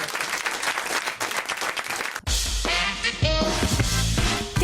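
A French radio studio audience applauds the comedian Titoff in a close, full burst of clapping for about two seconds before it cuts abruptly into loud music.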